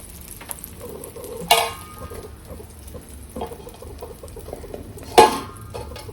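An omelette cooks in the same pan used for Agri-style chicken fry, a soft low sizzle underneath with a few sharp metallic clanks of pan or utensil, two louder knocks standing out, close by with no speech.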